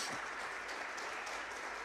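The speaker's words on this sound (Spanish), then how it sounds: "siempre nos gusta por lo menos dar un aplauso de bienvenida a las visitas" A church congregation claps in welcome, a steady, fairly soft wash of applause that holds throughout without any voices.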